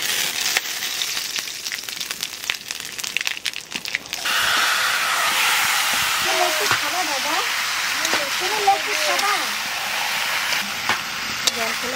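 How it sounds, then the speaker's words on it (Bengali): Cumin, bay leaf and dried chili dropped into hot oil, bursting into a loud, steady sizzle partway through that continues to the end, with light stirring clatter and a voice talking over it. "তেলের উপর দিয়ে দেবো জিরে, তেজপাতা,"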